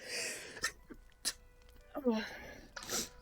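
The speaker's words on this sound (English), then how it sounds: "I'm gonna sneeze" A single sharp sneeze stands out between a few brief breathy sounds and short vocal noises, fairly close and loud.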